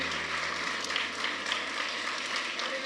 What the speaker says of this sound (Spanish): Yo quiero que le dé un fuerte aplauso al Señor por esta siembra